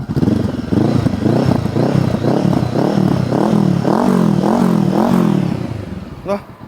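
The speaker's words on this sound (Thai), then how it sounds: "เบาๆฟังเสียงเครื่องก่อน เงียบกริบแล้วฟังเสียงท่ออ้วนๆทรงโยชิ" A 2018 Honda CB500F motorcycle with a fat Yoshimura-style exhaust runs close by, its engine note steady and loud with rising and falling harmonic swells, before fading out near the end.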